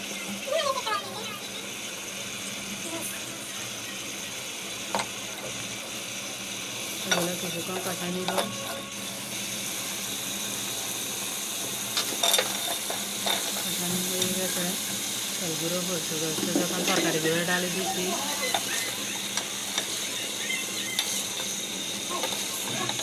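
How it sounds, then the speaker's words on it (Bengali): Vegetables with dried fish (shutki), turmeric, chili and coriander are stirred in a frying pan, with scraping utensil strokes and scattered clinks over a low sizzle; a voice talks intermittently. "একটু লাড়ি চাড়ি দিচ্ছি"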